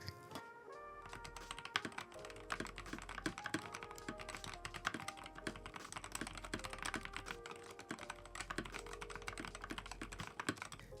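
Steady, continuous typing on a budget Hall effect mechanical keyboard, with dense overlapping keystroke clicks all the way through, close and clear, no voices.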